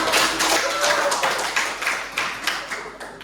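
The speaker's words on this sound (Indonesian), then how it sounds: "Coba tepuk tangan untuk" A classroom of students claps hands together in sustained group applause, a dense crackle of many overlapping claps that gradually thins out over a few seconds.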